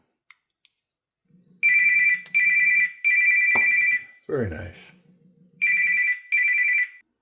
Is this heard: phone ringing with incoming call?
yes